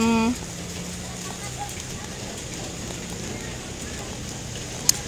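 Rain falling during a flood in Bima, West Nusa Tenggara, a steady, even hiss of downpour that continues without pause, with one faint sharp tick near the end.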